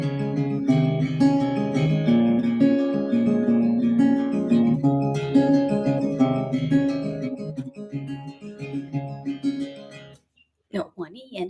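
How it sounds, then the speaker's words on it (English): Acoustic guitar fingerpicked in a Travis picking pattern, a steady alternating bass under melody notes, close and clear, stopping abruptly near the end as a voice begins to talk. "I was using a Travis picking pattern"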